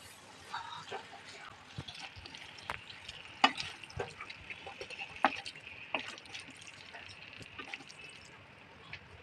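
Boiled spaghetti for a tomato spaghetti dish is tossed with two spoons, giving soft wet squelches and light metallic clinks in an irregular rhythm, with a faint sizzle underneath and a voice speaking over it.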